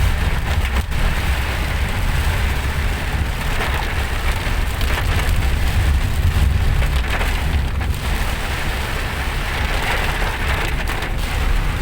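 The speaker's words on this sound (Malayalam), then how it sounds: "പുറത്ത് നല്ല മഴയാണ്." Heavy rain pours steadily outdoors in misty Wayanad, a dense continuous hiss and patter with a deep rumbling low end running unbroken the whole time.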